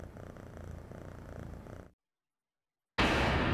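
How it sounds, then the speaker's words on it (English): A pet cat purrs close by in a steady low rumble, which breaks off into silence for about a second and then returns louder. "She loves to purr."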